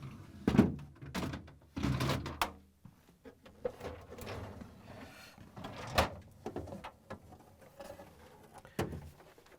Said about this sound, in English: remove the lower shelves and drawers. All you have to do is pull out on them until they stop and lift up a little bit